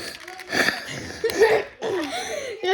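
A short burst of raspy coughing, close and fairly loud, mixed with breathy laugh-like sounds, with no talk.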